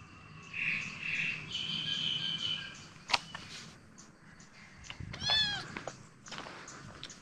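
A rescued kitten lets out a couple of thin, rising meows close by, over a steady background of chirping crickets and an occasional distant bird.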